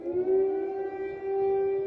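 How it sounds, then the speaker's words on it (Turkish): An air raid siren sounds over Kyiv with a loud, steady wailing tone that holds with a slight dip partway through and no voices over it. "Başkent Kiev'de bir kez daha sirenler çalmaya başladı."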